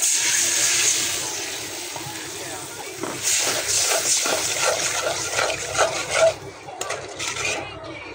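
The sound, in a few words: water poured into a cooking pan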